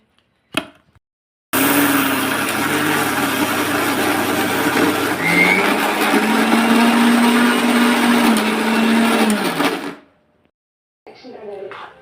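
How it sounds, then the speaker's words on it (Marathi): A mixer grinder whirs loudly and steadily for about eight seconds grinding soaked rice and lentils into dosa batter, then winds down and stops; brief handling noises come before and after. "चला तर आता मी मिक्सरला बारीक करते"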